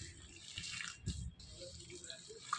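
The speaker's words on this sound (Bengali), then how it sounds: "এর জন্য একটু জল দিয়ে নেব, খুব বেশি না" A little water poured into semolina batter for palm-fruit fritters: a faint, short trickle and splash close by in a quiet kitchen, with no talking.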